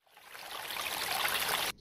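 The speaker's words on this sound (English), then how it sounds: "First, wet your hands with clean water." Tap water running while hands are wetted, a close, steady splashing stream that swells in over the first fraction of a second and cuts off abruptly after under two seconds.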